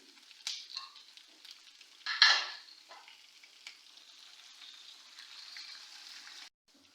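Cumin, carom seeds and green chilies crackle and sizzle in hot oil as a tempering for dal, with a couple of sharp spitting bursts early on, then a steady close-up fry until it suddenly cuts off.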